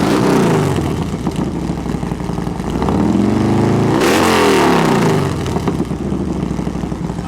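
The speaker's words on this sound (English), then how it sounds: "Steve, can we hear your bike? I bet this is the loudest type of all the bikes here" A loud motorcycle engine revs hard outdoors, held high, then dropping and sweeping back up in pitch, close and alone without talk.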